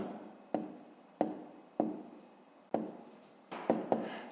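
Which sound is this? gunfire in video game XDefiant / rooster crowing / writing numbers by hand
writing numbers by hand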